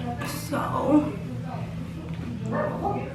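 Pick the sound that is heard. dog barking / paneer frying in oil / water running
dog barking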